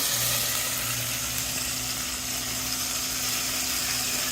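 Brown sugar, a tablespoon of it, caramelizing in a pan alongside wild boar gives a steady, soft sizzle with a low continuous hum underneath, even and unbroken throughout.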